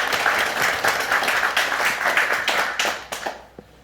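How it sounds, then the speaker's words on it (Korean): Church congregation applauding together in a sustained burst of dense clapping that thins into a few scattered claps before stopping, fairly close. "박수로 하나님께 영광 돌리겠습니다"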